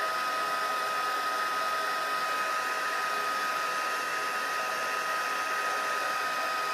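A heat tool blows hot air steadily onto lightweight foil, a constant close whirring rush with a high whine and no pauses.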